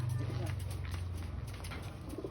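Low, soft pigeon cooing repeats in a steady murmur, close by, with faint rustling and a few light higher chirps on top.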